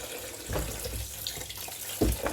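Tap water runs into a sink while apples are rinsed under it, a steady close splashing stream with a couple of louder gushes and thumps as the fruit is handled.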